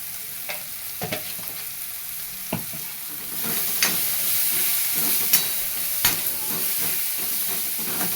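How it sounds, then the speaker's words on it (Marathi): A spoon stirring and sautéing in a frying pan on a home stove, a continuous hiss of sizzling oil punctuated by a dozen or so scraping clacks, close by and with no voices. "मस्त त्याला परतून घ्यायचं चांगले व्यवस्थित परत जाते"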